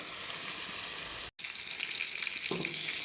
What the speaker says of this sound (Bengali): হলুদ মরিচ ধনিয়ার গুঁড়া আদা রসুন বাটা এগুলো দিয়ে মাছটাকে আমি সুন্দর করে ভেজে নিলাম